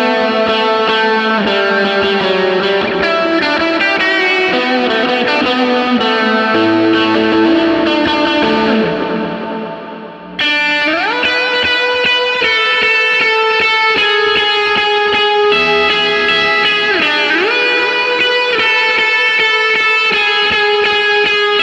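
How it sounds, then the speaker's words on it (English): Electric guitar solo played through delay and reverb with a distorted edge, sustained high notes and bends ringing out over about twenty seconds, with a brief dip near the middle. No voices. "A lot of times I'll leave my delays and my reverb on if I'm doing some higher solo stuff."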